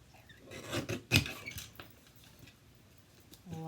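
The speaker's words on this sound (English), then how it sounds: "let's cut this in half. Cute little Stampin' trimmer." A small Stampin' paper trimmer slices cardstock corner to corner, heard as a short close scraping rasp of the blade with a sharper cutting burst in the middle, then quiet.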